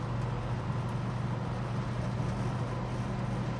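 A car engine drones steadily in second gear while driving, a continuous low rumble with road noise. The car has a rotted-out radiator and cooling issues.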